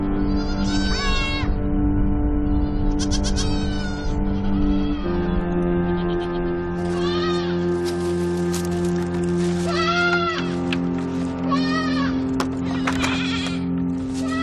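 Goats bleating repeatedly on a farm in Casillas del Ángel, Fuerteventura, several close, wavering calls overlapping one another over a steady low hum of background sound, with no voices.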